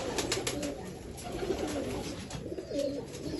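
Breeder pigeons in a rooftop breeding setup cooing close by, overlapping soft throaty coos with a few wing flutters, continuous throughout.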